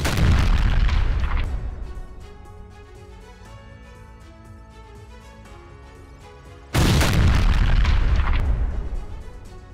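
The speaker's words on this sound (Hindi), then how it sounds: "दक्षिण लेबनान में इजरायली एयर स्ट्राइक हुई है।" Israeli air strikes hit Al Khiam in south Lebanon, striking a Hezbollah rocket launcher: a massive close explosion rumbles and fades, then a second heavy blast erupts several seconds later and slowly decays.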